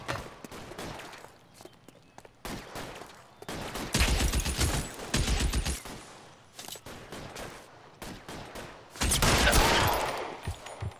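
Gunfire in the video game L.A. Noire Remastered comes in scattered bursts: quieter single shots and footsteps, then two loud dense volleys of rapid shots separated by brief lulls.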